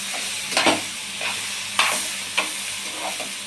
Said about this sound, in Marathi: चांगला पातळ चिरून घेतल्यामुळे पटकन भाजेल